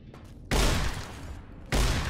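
Gunfire from a weapon in Fallout: New Vegas as vipers are shot, heard as two loud broadband bursts, the first lasting over a second and the second short near the end, each starting abruptly over a quieter background.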